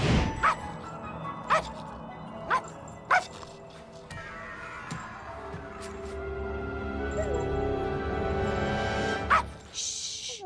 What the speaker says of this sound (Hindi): भौंकना मत।